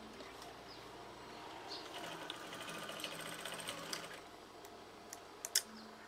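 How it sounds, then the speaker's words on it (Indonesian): A sewing machine stitches lace curtains, running as a faint continuous whir, with a few sharp clicks near the end. "Perhatikan cara saya menjahit untuk Anda."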